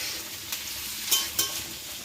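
Carrots, peas and beans stir-fry in a wok for vegetable fried rice, giving a steady, close hiss of sizzling oil broken by a few quick scraping stirs.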